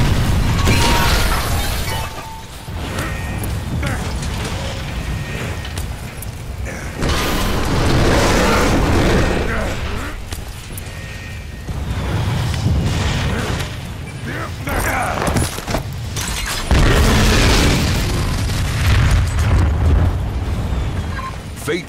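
Gravity core generators exploding in the Bulletstorm video game, a sustained loud roar of booming blasts, rumble and crashing debris that swells and recedes in waves for over twenty seconds without letup.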